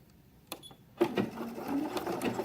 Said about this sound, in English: stay stitching.